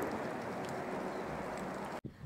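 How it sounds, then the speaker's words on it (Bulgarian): Rain patters down in a garden, a soft, even hiss of drops on the surface that runs steadily before a sudden brief dropout near the end leaves it fainter. "Естествено заваля дъжд."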